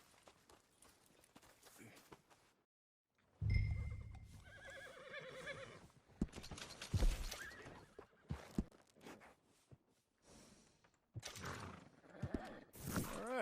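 A horse in Red Dead Redemption 2 gives a loud, close whinny and snorts, with hoof clip-clops and shuffling steps on the ground, broken by short quiet gaps.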